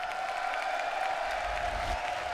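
Steady applause from a large crowd at the Tekken World Tour 2018 grand finals, a continuous wash of clapping with a faint tonal hum beneath it, sustained throughout without a break.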